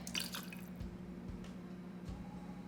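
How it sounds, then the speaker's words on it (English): Water poured into tahini sauce being made for mushroom shawarma, heard as soft trickling and dripping with a few wet plops, quiet and close. "3 to 4 tablespoons. I'll go with 4 of water."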